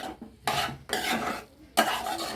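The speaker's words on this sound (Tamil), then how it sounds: "நல்லா கை விடாமல் நல்லா கிண்டிகிட்டே இருக்கணும்." Egg bhurji being stirred in a pan, with three bursts of scraping and clattering against the metal separated by short pauses, close and fairly loud with no talking.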